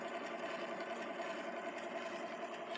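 The early bevel gear motor of a Victor M phonograph runs with a steady, faint whirring hum and a fine, even mechanical texture, close up and unbroken for the whole few seconds, with no voices.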